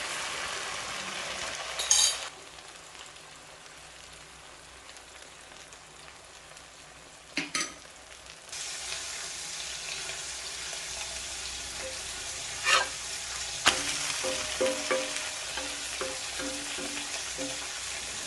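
A mutton curry omelette cooking in a pan, with a soft, steady sizzle under occasional sharp clinks and scraping stirs from a utensil, fairly quiet and with no talking.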